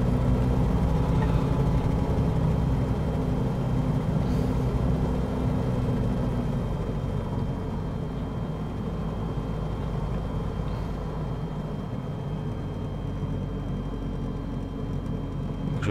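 Light aircraft engine droning steadily in the cabin while lining up to land on a grass runway, a continuous low, loud hum that eases slightly over time, with no talking.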